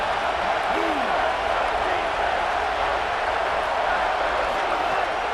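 A stadium crowd in the College Football 27 video game roars in a dense, unbroken wash of noise at a tense third-down moment, loud and steady throughout.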